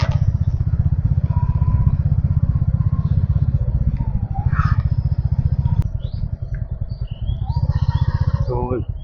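A motorbike runs steadily with a close, pulsing engine drone while a rider talks continuously over it on the move.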